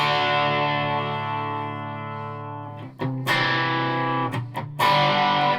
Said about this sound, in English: But these pickups are distorting really early.